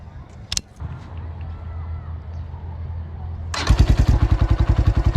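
A motorcycle recovering from an accident is fired up with its electric self-start: a quiet idle-room hum and a click, then the engine catches and settles into a loud, close, rapid thumping idle.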